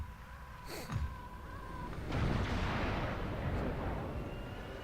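Explosion during a cutscene in the PS2 video game Batman Vengeance, a broad roaring burst that swells at about two seconds and rumbles on loudly to the end, preceded by a short sharp whoosh and a thin electronic tone.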